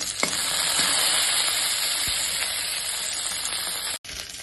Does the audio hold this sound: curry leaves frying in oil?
yes